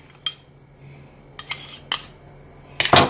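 Metal utensil scraping and clinking against a bowl while stirring melted chocolate with caramel for a caramel hazelnut cake, in a few sharp separate taps, the last one louder and longer, with no talk.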